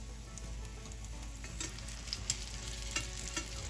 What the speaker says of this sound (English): I'll go ahead and flip this one over.